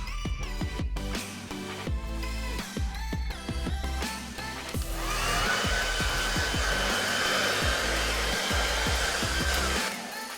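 A hair dryer blows steadily with a whooshing hum, starting after a few clattering knocks and bumps nearby.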